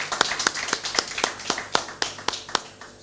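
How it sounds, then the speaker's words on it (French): Sparse audience applause at a French presidential candidates' technology forum, about a dozen sharp, separate claps spaced fairly evenly, moderately close and fairly quiet. "sous vos applaudissements"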